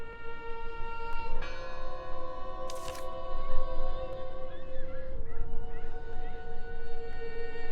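A church bell rings in the horror game Draugen, its sustained resonant tones layered and ringing steadily, with a brief bright clang partway through and no talking.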